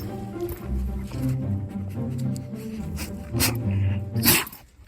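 Guard dogs on a farm barking and whining close by, several overlapping barks and whimpers in quick succession, loud and excited.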